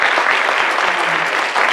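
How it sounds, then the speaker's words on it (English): Audience applause at the close of an evening panel discussion, a dense, steady clatter of many hands clapping together that fills the whole clip at full strength. "Let's give them a round of applause."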